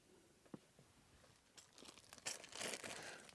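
Plastic bag holding fan retaining clips and grub screws for a caravan fridge fan kit crinkles and rustles up close, starting with a few faint crackles and growing into louder, denser crumpling toward the end.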